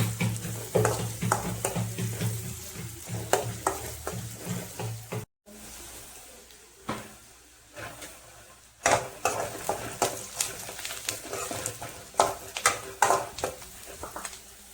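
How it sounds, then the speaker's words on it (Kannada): Fenugreek palya sizzles steadily in a pan while a spoon scrapes and stirs it in repeated sharp strokes, with a brief pause partway before the frying and stirring resume close by. "ಮೆಂತಿ ಪಲ್ಯ ಸೋಸ್ ಆಗುತ್ತ ನೋಡ್ರಿ"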